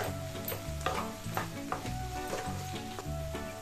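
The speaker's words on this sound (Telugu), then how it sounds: "మిక్స్ చేసుకుందాం ఒకసారి కర్రీని." Drumstick curry with tomato and salt being stirred in a hot pan, with a steady sizzle under repeated scraping strokes of a spoon in an even rhythm, close and fairly loud, no talking.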